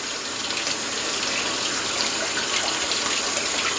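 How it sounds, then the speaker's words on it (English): Cold water pours steadily from a kitchen tap while hot boiled food is peeled under it, a close, continuous hissing gush with no speech. "right up under the cold running water"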